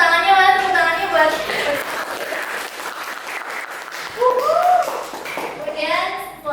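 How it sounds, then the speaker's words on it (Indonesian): Audience applause at an Indonesian campus talk-show style event, a loud sustained clapping crowd with children's voices mixed in and a presenter speaking over it. "Boleh tepuk tangannya buat."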